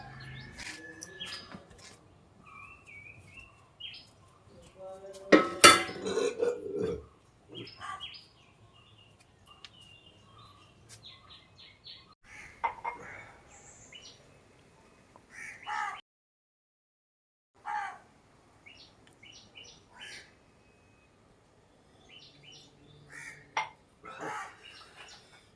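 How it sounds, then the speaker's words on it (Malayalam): Birds chirp and call outdoors in a garden, with scattered tweets and short calls coming and going between quiet gaps, including one louder burst of calls, while occasional crow-like caws sound at a distance. "കിളികളുടെ സൗണ്ടും എനിക്ക് ഏറെ ഇഷ്ടപ്പെട്ടതാണ്."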